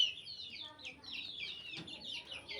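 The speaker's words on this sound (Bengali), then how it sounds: "এই তো টিক্কিওয়ালা মুরগি।" A crested hen clucks and chirps in soft, quick high-pitched runs, fairly faint, with a short dull knock partway through.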